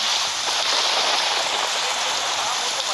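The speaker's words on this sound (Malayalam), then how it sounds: "ഇത് പുറത്ത് നല്ല മഴ പെയ്യുന്നുണ്ട്. ഗെയിമിലെ കാര്യമാണ് പറയുന്നത്." Steady, dense video-game rain patters without a break, a constant hiss of drops falling on a surface.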